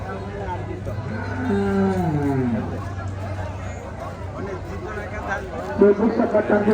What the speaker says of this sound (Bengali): খুব সুন্দর গরু আছে, অনেক গরু, পর্যাপ্ত গরু আছে